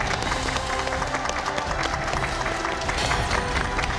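A TV studio audience applauds to welcome a guest onto a Korean health talk show, dense continuous clapping at a steady level with faint background voices mixed in.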